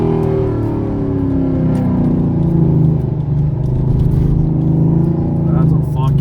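A Corvette ZR1 makes a roll racing pass at a Toronto motorsport event, heard as a heavy, continuous low engine rumble and drone with people talking over it.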